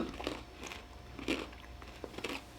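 A crunchy butter toffee chocolate candy bar gets bitten and chewed close to the mic, with several crisp cracking crunches in a quiet room.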